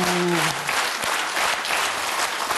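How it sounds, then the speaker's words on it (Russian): A burst of steady clapping from a group, dense and continuous, with a brief low tone fading at the start. "по тебе хлопают"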